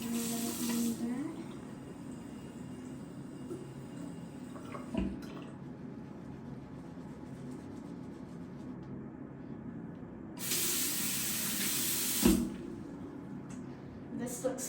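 Water trickles from a sink tap onto a towel in a home bathroom, a steady low hiss and splash with brief louder bursts of flow.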